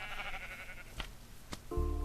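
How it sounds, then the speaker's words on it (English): Sheep in a video game bleat in a short, close, wavering cry, followed by a pair of sharp clicks and a steady electronic tone near the end. "More sheep over here and horses."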